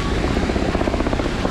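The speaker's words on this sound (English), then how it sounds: "another helicopter going over" Steady rhythmic thudding of helicopter rotor blades overhead, loud and continuous with no voices.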